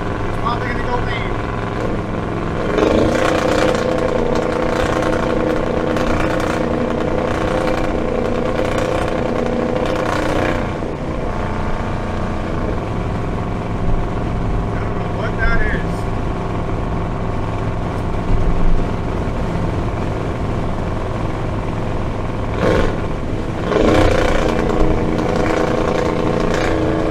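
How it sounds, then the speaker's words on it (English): A car engine fitted with Holley Sniper EFI runs at full throttle, a loud sustained drone with pitch rising and falling across the clip, with talking over it at times. "Now I'm going to do a full throttle."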